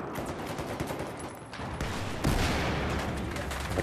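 Gunfire in the Battlefield 4 video game, a dense run of rapid shots rolling into a heavier, louder burst near the end, with some faint background game noise.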